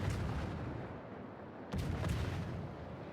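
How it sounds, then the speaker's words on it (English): Naval gunfire between two Colbert cruisers in the World of Warships video game, a continuous rumbling barrage with a heavy fresh salvo about halfway through, dense and booming with no voices. "A lot of fire happening between the two Colberts there."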